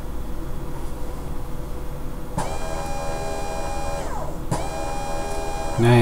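An electric motor spins up twice with a rising whine that holds steady and then drops away, heard close over a steady background hum while an accelerometer unit rests loose on top of it.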